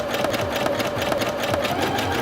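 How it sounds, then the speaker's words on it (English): A Singer Featherweight C240 sewing machine runs at its lowest speed with a steady, close mechanical hum and a fast, even stitching rhythm, with no talk over it. "My machine is sewing at its lowest speed right now,"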